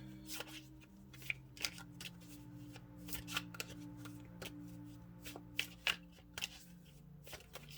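A deck of tarot cards being shuffled by hand, giving soft, quiet riffling snaps and flicks in an irregular rhythm close by, with a steady low hum underneath.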